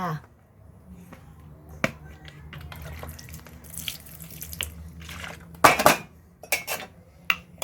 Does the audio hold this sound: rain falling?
no